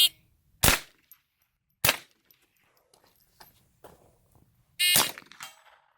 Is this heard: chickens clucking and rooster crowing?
no